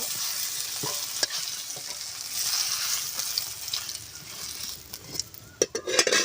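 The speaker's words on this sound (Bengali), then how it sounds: "আস্তে আস্তে জাল দিয়ে চিমটাকে ভেজে নেব।" Flat beans fry slowly in oil over low heat, making a soft, steady sizzle with scattered clicks, then a few sharper scrapes and clatters of a utensil against the pan toward the end.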